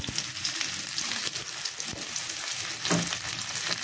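Shrimp frying in a pan, giving a continuous close sizzle with scattered crackles and occasional stirring scrapes, steady and fairly loud throughout.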